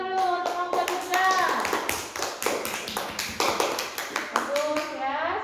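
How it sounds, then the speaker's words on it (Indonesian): A classroom of children claps for a small group of classmates, brisk uneven hand claps under a voice, with children's voices and shuffling around them. "beri tepuk tangan dulu untuk kelompok Dirga"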